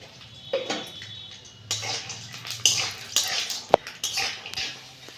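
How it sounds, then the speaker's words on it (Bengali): Peanuts being fried in oil clatter and scrape in a pan, with irregular metallic knocks, stirring and a soft sizzle, close and moderately loud. "চিনে বাদাম ভেজে নিচ্ছি"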